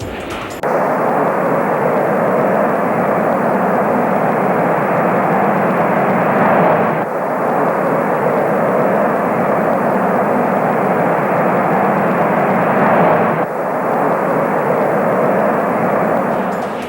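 Aircraft of an aerobatic display team fly in formation, producing a loud, continuous engine roar that swells and fades in long passes without any voices.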